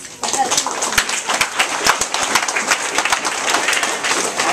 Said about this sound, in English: So everybody please give a loud set of applause for Mr. James for helping us.